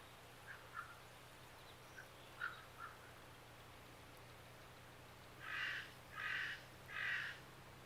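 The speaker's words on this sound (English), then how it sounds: "See, that's crows that you hear." Crows or ravens cawing outdoors, with a few faint distant calls at first, then three louder, evenly spaced harsh caws close together, over a steady low background hum.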